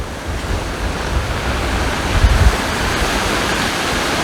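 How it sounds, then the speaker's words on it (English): Ocean waves in Tenerife, a continuous broadband roar of surf with a slightly stronger swell midway, heard close and alone with wind buffeting the microphone. "Look at those waves."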